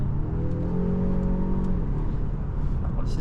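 A 2026 Volvo XC60 in power mode accelerates with a steady engine drone that climbs slightly in pitch, heard from inside the cabin with no talking and a constant road rumble underneath.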